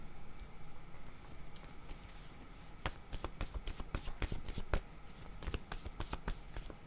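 Playing cards shuffled for a tarot-style card reading, a quiet steady riffle that breaks into a quick run of sharp crisp snaps and flicks in the middle, close and without talk.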